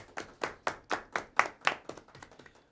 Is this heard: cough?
no